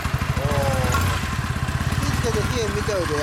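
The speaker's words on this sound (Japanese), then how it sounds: "エンジン音聞かせてもらえる？" A stock-muffled 2007 Kawasaki W400 twin idles nearby with a steady, lumpy low pulse, while people briefly talk over it.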